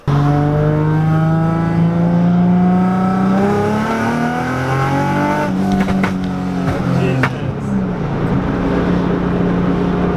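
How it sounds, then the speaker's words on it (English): A Lexus IS300 engine revs with throttle blips, a loud, close, droning hum whose pitch rises and falls, with a few sharp clicks and knocks midway and no clear talk. "when you blip the throttle for that split second, there's tons of air rushing in"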